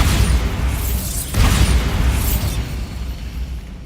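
Bombarda explosion spell cast in Hogwarts Legacy: a deep rumbling blast with a sharp burst partway through, booming loud and close before fading into a low rolling tail, with no talk.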